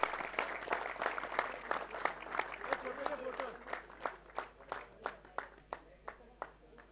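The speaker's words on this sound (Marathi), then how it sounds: "मोसम. जोरदार टाळ्या." Crowd applause at a cricket tournament prize distribution as the champion team receives its trophy, a steady burst of many hands clapping with sharp rhythmic claps standing out, mixed with voices throughout.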